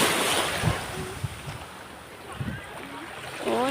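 Sea waves washing onto the shore at a beach in Calatagan, Batangas, a soft continuous surf with wind rumble and small splashes, fairly faint, with occasional voices in the background.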